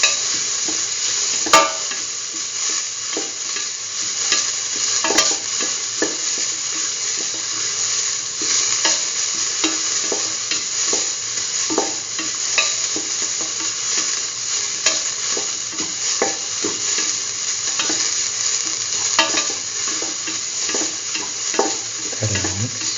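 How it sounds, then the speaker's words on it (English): Curried egg and mung bean stew ingredients sautéing in a pan, a steady close sizzle with the scrape and clack of stirring at intervals, no voices. "Thoroughly sauteing it. Sauteing it thoroughly."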